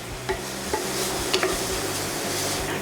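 Hot scorpion peppers cook down in a very hot pan, giving a steady close sizzle with a few soft stirring scrapes and no talk over it.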